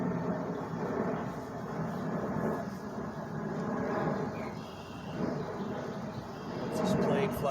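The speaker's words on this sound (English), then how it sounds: "Once this plane flies overhead," An airplane flies overhead outdoors, a broad, low, steady rumble that swells slightly toward the end, with a voice talking over it.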